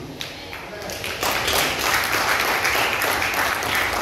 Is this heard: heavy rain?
no